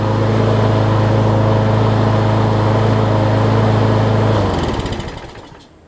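The engine of a Toro Super Recycler lawn mower, fitted with a new carburetor after corrosion, runs loud and steady at close range, then winds down and dies over the last second or two.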